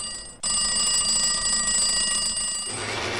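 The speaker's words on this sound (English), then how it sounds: "The telephone." An office telephone bell rings in one continuous, bright, metallic trill for a couple of seconds before cutting off, heard alone and fairly close.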